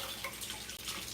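Makeup brushes are rinsed under running tap water, a quiet, steady flowing splash with a brief dip partway through.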